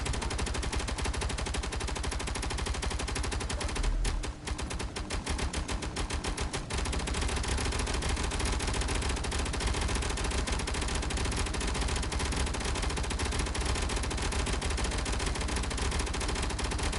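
Rapid automatic gunfire from a video game weapon rattles on almost without pause, dense bursts of shots that drop out briefly for a moment before resuming at full, steady intensity.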